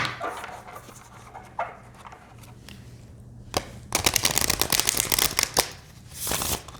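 A large deck of oracle cards is riffled and shuffled by hand in short bursts of papery flutter and snaps, growing louder and denser toward the end, close to the listener with no talk.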